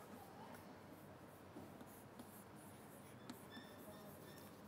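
Faint scratching of writing on a board during a lecture, soft irregular strokes and taps over a hissy, quiet room background, with no voices over it.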